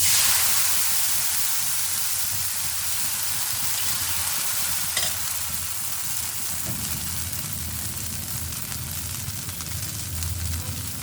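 Egg chitai pitha batter sizzles steadily in a hot oiled pan, a continuous loud frying hiss with a brief clatter midway and no voices.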